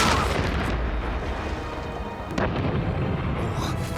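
A second cannon blast booms in a cartoon battle, a heavy rumbling report with a sharp crack near the middle, rolling on like thunder and loud throughout.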